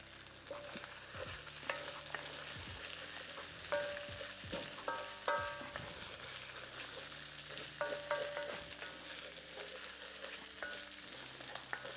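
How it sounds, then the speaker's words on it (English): Onions frying in rice bran oil in a wok, a steady hiss of sizzling with repeated spatula scrapes and clinks against the metal, close and continuous, no voices. "So cook your onions how you like them."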